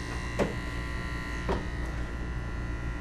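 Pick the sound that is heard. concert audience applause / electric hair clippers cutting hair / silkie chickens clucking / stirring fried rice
electric hair clippers cutting hair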